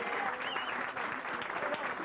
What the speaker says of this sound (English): Let's give a, you know, an applause for these guys.